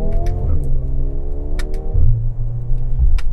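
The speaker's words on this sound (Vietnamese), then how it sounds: "các bạn nghe cái tiếng pập pập pập pập ha, đó là cái tiếng mà sang số của cái chiếc xe" A 2023 Mercedes-AMG GLB35 4Matic revs its engine through quick gear changes, pitch sweeping up and dropping, with sharp popping crackles from the exhaust scattered across a loud, close, rumbling few seconds.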